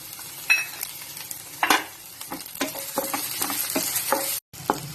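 Ginger and tomato sauté in a pan for veg noodles, giving a busy crackling sizzle with scraping stirs and a few louder clatters, close up, briefly cutting out near the end, no speech.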